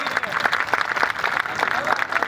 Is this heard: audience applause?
yes